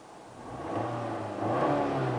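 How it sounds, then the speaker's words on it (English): A 2009 Nissan Altima's 2.5-liter four-cylinder engine revs up from idle, the rumble rising in pitch and loudness over a couple of seconds, close by. "The car is running right now. I'm going to rev it."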